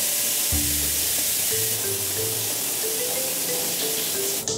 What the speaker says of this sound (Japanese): 若干冷たいぐらいのねシャワーでちょっと入っていこうと思います